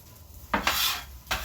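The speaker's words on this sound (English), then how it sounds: "What we're going to do is we're going to go in with the pork." Pork and rice stir-fried in a hot wok: two loud bursts of sizzling and metallic scraping as the food is tossed, close up, with a quieter sizzle in between and no talking.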